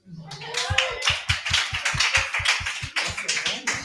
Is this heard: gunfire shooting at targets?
no